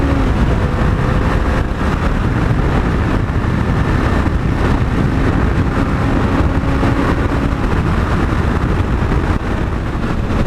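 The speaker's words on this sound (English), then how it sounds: "Acceleration up onto the freeway." A Honda CB500X Rally Raid motorcycle accelerates up onto a freeway, its engine and wind roar loud, close and steady for the whole stretch, with no talking.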